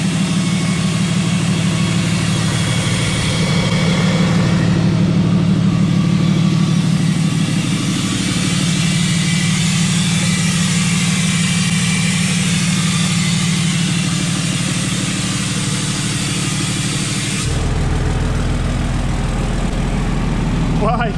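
A Cummins 5.9 diesel pickup fitted with a VGT turbo idles steadily with its exhaust brake engaged, a continuous low rumble that shifts to a deeper, heavier drone near the end.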